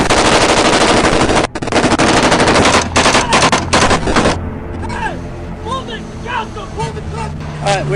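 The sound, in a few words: machine gun fire in combat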